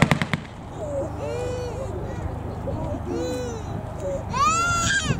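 Blank gunfire at a Yorkshire wartime reenactment of Highland troops assaulting a German position: a quick cluster of sharp, close shots at the very start, then crowd chatter and a raised voice over a low outdoor murmur.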